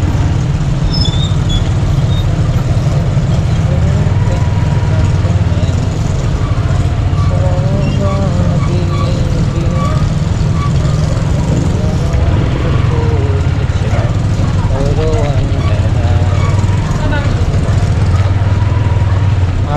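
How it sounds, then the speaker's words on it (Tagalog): Gasoline grass cutter running in a rural village field, a steady loud engine drone lasting throughout, with faint voices underneath. "mag-grass cutter naman yung task natin"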